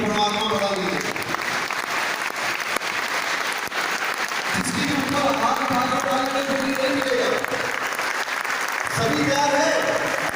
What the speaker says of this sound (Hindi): एक बार फॉर्मूला के लिए जबरदस्त तालियां हो